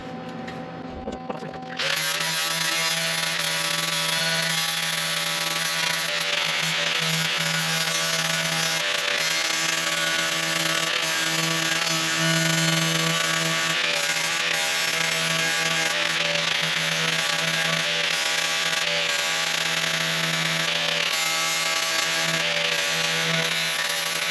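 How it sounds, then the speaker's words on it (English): An angle grinder works the metal on a replacement passenger door skin of a 1974 Chevy square body truck, starting after a brief pause and then running as a loud, steady, continuous whine with no talk. "So I'm going to go through and grind that off and see how it looks."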